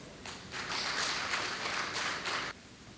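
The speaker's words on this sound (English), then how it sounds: "please welcome contestant today, Ms. Anura Lianage, with huge round of applause" Audience at a speech contest grand finale bursts into a short round of applause, dense clapping lasting about two seconds before stopping abruptly.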